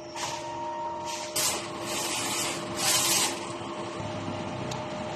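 A DTF printer runs a nozzle test, a steady mechanical whir with sliding, rasping passes of the print head that rise and fall in loudness, plus a faint constant hum throughout.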